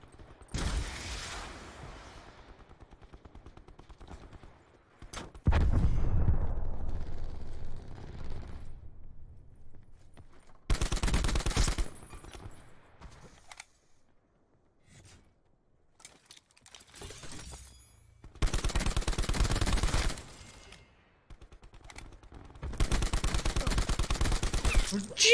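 Bursts of automatic gunfire in a Call of Duty–style shooter match, several loud volleys of a few seconds each separated by quieter stretches with faint in-game sounds.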